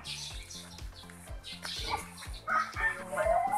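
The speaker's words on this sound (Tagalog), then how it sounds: "So ayun po yung mga manok." Chickens cluck repeatedly on a rural Philippine farm, close and fairly loud, their rhythmic calls layered with softer fowl noises and a faint rooster-like cry in the background.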